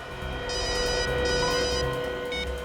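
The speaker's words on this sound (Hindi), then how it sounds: "उस खबरी रघु का फोन था" A telephone rings in bursts of electronic trilling tones over a sustained musical background score in a Hindi crime drama episode, with no one speaking during the ringing.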